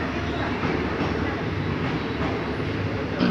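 A train pulls into a railway station in Thailand, led by a 1075-series locomotive; a steady, close rumble of wheels and engine fills the scene, with voices faintly present underneath.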